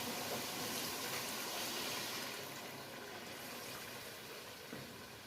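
Two to three glasses of water pour into a pan of frying potatoes for aloo palak, a loud steady gushing splash that eases into a softer bubbling hiss.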